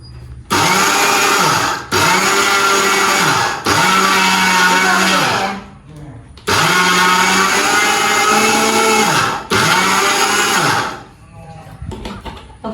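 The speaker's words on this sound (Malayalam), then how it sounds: "നല്ല മിക്സിയാണ്." An electric mixer grinder whirs loudly in several bursts of a second or two each, separated by short pauses, its motor pitch dropping at each stop, close by with faint voices in the gaps.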